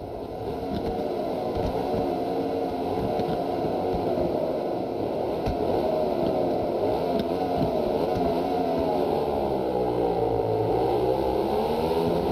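Motorcycles racing around a track in the Ride 4 video game, a steady loud engine drone with shifting revs throughout, no voices.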